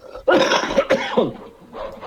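Role-playing game sound effect of an attacking Warhoon's yell, a single loud, harsh, rasping shout that sounds almost like a dog's bark, heard up close and alone, with a fainter trailing cry at the end.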